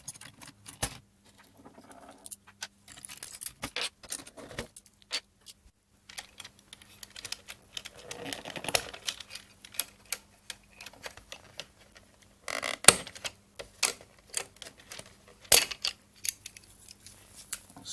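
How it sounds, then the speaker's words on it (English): Keycaps being pried off a mechanical keyboard built for the Commodore 64, with sharp plastic clicks and clatters in irregular bursts, close and alone with no talking. "So I guess I'll just remove the keys next."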